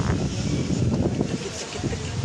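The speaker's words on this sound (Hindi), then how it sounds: "कितनी तेज हवा चल रही है, मस्त मौसम हुआ है।" Strong outdoor wind buffets the microphone in a continuous rough roar, loud and close, while someone talks over it.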